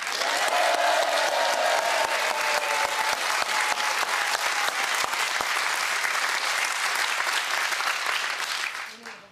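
Studio audience applause on a French TV quiz show, a dense, sustained clatter of many hands lasting about nine seconds before tapering off at the end.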